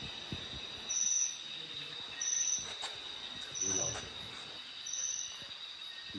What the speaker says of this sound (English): There's a guest at the night, a huge cicada